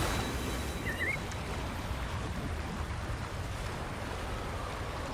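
Rushing water from a very large waterfall in the video game Wuthering Waves roars as a dense, steady wash of noise, loud and unbroken throughout.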